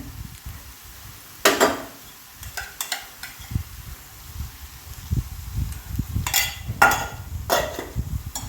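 Spoon stirring potato shira (halwa) with ghee in a pan, soft scraping and scattered clinks against the pan in irregular bursts, close and fairly quiet with no talk.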